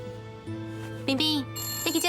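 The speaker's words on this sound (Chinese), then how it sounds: "你去接电话" A telephone rings at home in short, bright electronic trills, repeating a couple of times, while people in the room speak over and between the rings.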